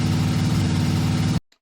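A vintage Ford 534 ci V8 in an F800 custom truck from American Truck Simulator runs at steady low revs, a loud, constant deep rumble that cuts off abruptly.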